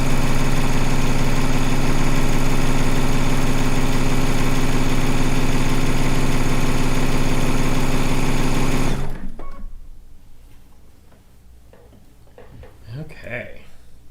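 A sewing machine stitches down a strip on a log cabin quilt, a fast steady mechanical whir for about nine seconds before stopping, followed by quiet handling sounds and a voice.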